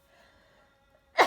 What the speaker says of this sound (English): Excuse me, had to sneeze there.